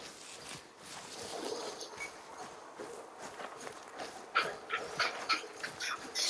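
A hunting dog tracking a scent in theHunter: Call of the Wild on PS5, with soft pawing footsteps and sniffing moving through brush, moderately close and free of talk.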